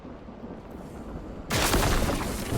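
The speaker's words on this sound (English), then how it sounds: "you can see what happens when lightning strikes" Lightning striking in the fantasy video game Mind Over Magic, a sudden loud broadband crack of thunder that bursts in partway through and keeps rumbling to the end over a quieter game ambience.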